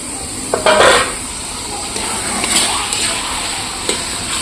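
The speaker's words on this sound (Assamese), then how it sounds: "এইখিনি তাত আগতে ভাজি ল'ম, ঢালি দিম।" Ingredients poured into a hot pan to fry for a black gram dal: a brief clatter at the start, then a steady close sizzle and hiss with a few faint clinks.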